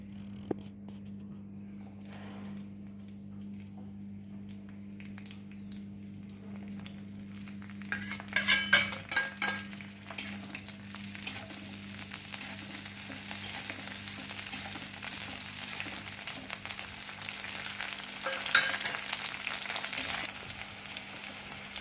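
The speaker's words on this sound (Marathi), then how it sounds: "अशा प्रकारे मिरच्या ह्या तेलामध्ये तळून घ्यायच्या आहेत" Green chillies frying in hot oil for sabudana khichdi, a steady bubbling sizzle that grows louder and busier partway through, with occasional utensil scrapes and stirring clinks close by.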